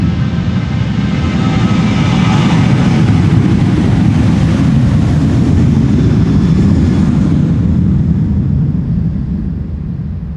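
A KLM Boeing 737-800 taking off from Schiphol's Polderbaan runway 36L, a loud, steady broadband jet engine roar that holds strong for most of the stretch before slowly fading near the end.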